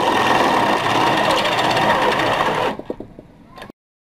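A thread tap, driven like a drill bit, cuts threads into oiled steel with a loud, steady motorized whir that sputters into a few short bursts after about three seconds and then stops.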